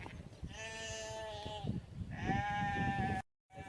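Sheep in the Welsh countryside bleating close by, two long wavering calls one after another, clear and fairly loud over faint outdoor background.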